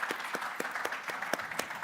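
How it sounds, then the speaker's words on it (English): Sparse, fairly quiet clapping from a small audience thanks panelists at the Cosmoverse 2025 conference in Split, Croatia; individual claps land in a loose, quick rhythm, a few pairs of hands heard distinctly rather than a full roar. "A round of applause for our panelists."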